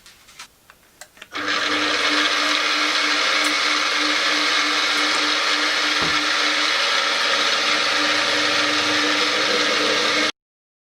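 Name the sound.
drilling an 8.5 mm pilot hole for an M10 tap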